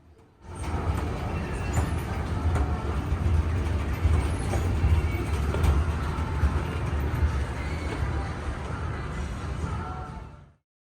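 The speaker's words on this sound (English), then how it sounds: "Here we take a look at our Siemens charger before boarding the train." A Brightline passenger train hauled by a Siemens Charger locomotive rumbles steadily at a station, a loud, continuous low drone with faint metallic squeals that rises in and cuts off abruptly near the end.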